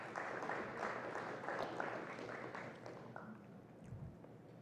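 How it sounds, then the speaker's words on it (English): Audience applause at a West Indies cricket conference, a quiet, broad wash of clapping that holds steady and thins out toward the end, with no one speaking over it. "please give yourselves a round of applause"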